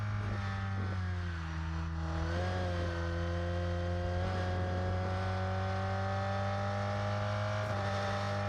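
Car engine revving in the racing video game Rennsport, a loud steady drone with rising pitch through upshifts, continuous and close throughout.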